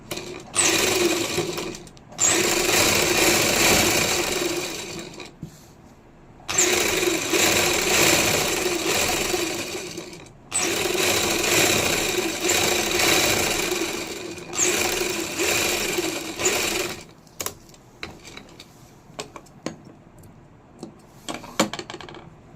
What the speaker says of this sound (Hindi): तो अब मैं दूसरी सिलाई लगा लूँगी, एक पैर का मार्जिन छोड़ के